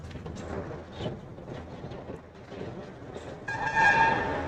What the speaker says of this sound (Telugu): ఇప్పుడు మనం వర్షం పడుతుంది కదా